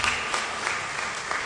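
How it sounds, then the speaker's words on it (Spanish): A church congregation at a Sunday service claps steadily, a dense, loud, even patter of many hands with no voices over it. "démosle un aplauso al Señor nuevamente"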